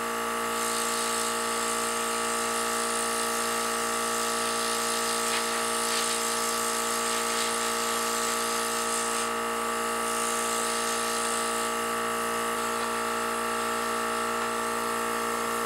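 A Temptu AirPod airbrush blows air steadily to dry foundation, a continuous close whirring hiss with a motor hum that holds unbroken throughout.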